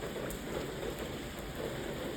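Heavy rain falling in South Korea, a steady dense hiss of downpour with no break, loud and close throughout.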